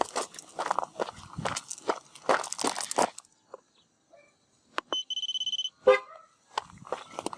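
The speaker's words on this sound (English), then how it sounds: "Horn honks." Car horn giving a rapid burst of short honks during a tire pressure sensor check, preceded by crunching footsteps and rustling nearby, with a few scattered clicks.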